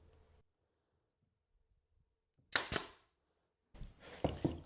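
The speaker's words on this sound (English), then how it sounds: "I'm holding the gun in this direction because when the nails come out of the gun, they're less likely to bend" Nail gun shooting nails into a wooden picture frame that will later be painted and gold-leafed, heard as two sharp, close pneumatic bangs in quick succession after a near-silent pause, followed by a burst of air and handling noise.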